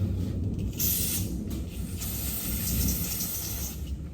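A spray washes down the screen and parts of a Graco GX-7 spray gun after concrete lifting, producing a loud continuous hiss with surges, close by and alone.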